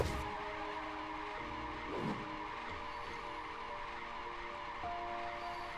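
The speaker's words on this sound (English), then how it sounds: "Oh god, I can still hear the car." A car driving in the Tower of Fantasy video game, with a steady, fairly quiet engine drone and a brief tire skid partway through, heard alone without talk.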